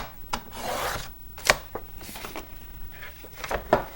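Paper scrap being trimmed for a scrapbook mini album, heard as close, uneven rasping cuts and rubbing with a few sharp taps and handling noises, quiet and intermittent.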